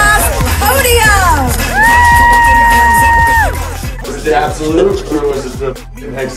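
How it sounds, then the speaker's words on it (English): Crowd cheering, whooping and yelling at a snowbike cross podium celebration, loud and close, with a sustained shout and an amplified voice over the excited babble. "huge round of applause for your Paris Snowbike Cross podium"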